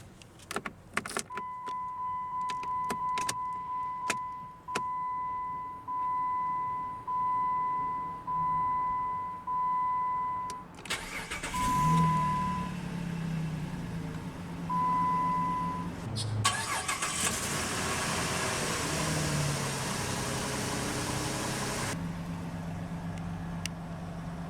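A 2007 Jeep Grand Cherokee Laredo starts after a stretch of repeated electronic chimes. The starter cranks, the engine catches with a loud rev, then settles into a steady idle before briefly flaring up again.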